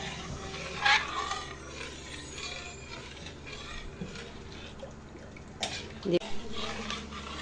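Latik, coconut curds for biko, stirred in a pan, with soft scraping and clinking of a utensil against metal and a few sharper knocks, under quiet talk in a home kitchen.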